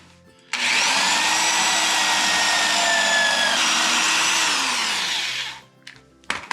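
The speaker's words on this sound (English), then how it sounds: "Now I'm going to drill this through here until I hit the rib" A power drill whines steadily for about five seconds, its pitch sagging slightly as it bites through the metal of a plow, then stops abruptly, with no voice heard.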